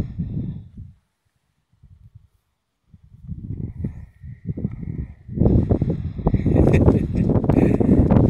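Gusty outdoor wind buffets the microphone in bursts on a mountain outing, dropping briefly to near silence before returning strong and roaring up close.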